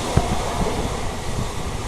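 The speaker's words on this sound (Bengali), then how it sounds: "সোদপুর রেল স্টেশন স্কিপ করে যাচ্ছে" A Lalgola-Sealdah passenger special runs past Sodepur station with a loud, steady rumbling roar of wheels and carriage noise. One brief knock sounds early on, and wind buffets the microphone.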